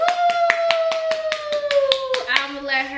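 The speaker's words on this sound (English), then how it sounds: "Now my special guest, round of applause." A small round of clapping greets a special guest, about a dozen evenly spaced claps from one or two people, with a voice singing or talking over them.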